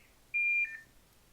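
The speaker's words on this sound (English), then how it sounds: "That's my alarm that I was supposed to wake up to." A single electronic wake-up alarm beep, one steady tone that holds briefly and then drops in pitch, heard clearly in an otherwise quiet room.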